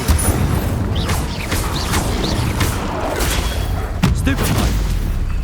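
Spell combat in Hogwarts Legacy, with an Incendio fire spell cast amid a steady din of booming, crackling magic effects and rumbling impacts that continue throughout, a sharp louder hit near the end.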